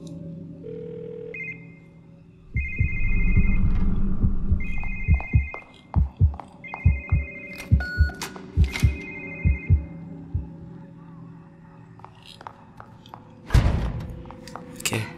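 Telephone ringing in the video game The Evil Within: The Assignment, a shrill electronic trill repeating in spaced bursts over a low throbbing ambience with heavy rhythmic thuds like a heartbeat.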